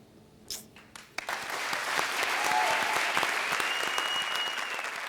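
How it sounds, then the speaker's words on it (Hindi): Studio audience at a comedy show bursts into sustained, dense applause after a few scattered claps, loud and steady to the end. "तो सबसे पहले हमारे आज के सुपरस्टार किशोर के लिए जोरदार तालियां"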